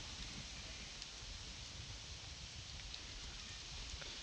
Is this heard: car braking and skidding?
no